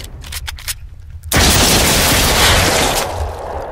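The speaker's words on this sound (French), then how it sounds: "En plus je lui ai mis des balles explosives en plein dans la bouche" Explosive bullets fire in The Brookhaven Experiment, a virtual reality shooter, as a sudden loud, dense roar of blasts that stays steady for over two seconds after quieter sounds, then eases slightly near the end.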